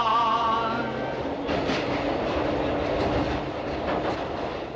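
A 1977 Glasgow Underground train running on its rails, a steady, close rumble with rhythmic clickety-clack wheel beats and a faint whine, continuous throughout with no talk.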